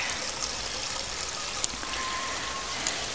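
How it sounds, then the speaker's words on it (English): Water trickles and splashes steadily into a filling aquaponics grow bed fed through an indexing valve, a continuous hissing, dribbling flow with a couple of brief drip plinks, nearby and even, no voices. "I'm only flowing water into one of these 6 beds at a time"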